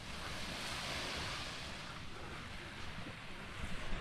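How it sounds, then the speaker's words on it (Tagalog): Surf breaks on a beach in Siargao, heard as a steady wash of wave noise with some wind that swells slightly toward the end. "Lahat ata ng beach dito sa Siargao maalon. May alon."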